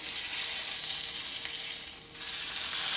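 A ribeye steak's edges sear in a hot pan with a steady, loud, close sizzle that holds evenly throughout, with no talking.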